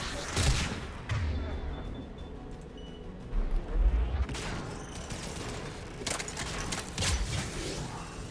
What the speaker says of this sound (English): There! The guns protecting the tower!